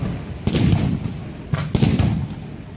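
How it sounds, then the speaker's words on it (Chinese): Two loud explosive blasts boom about a second apart during a firefighting drill with fire at the Qianhai World Trade skyscraper in Nanshan, Shenzhen, each with a sharp onset and a rumbling tail. "听到爆炸声没有？"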